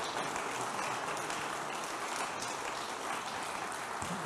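Continuous applause from the audience at an HEC Alumni general assembly, a dense, even patter of many hands at moderate, steady loudness with no voices over it.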